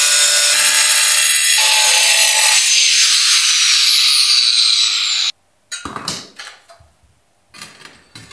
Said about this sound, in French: Puis, découpe à la meuleuse d'angle.